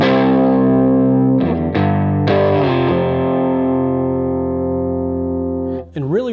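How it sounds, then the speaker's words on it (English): Fender Empire '59 Transition Stratocaster on pickup position 4 through effects pedals: a few strummed chords ringing out with long, lightly distorted, chorused sustain, then a final note bent with warbling vibrato. "Let's hear an in between. So here's a position 4."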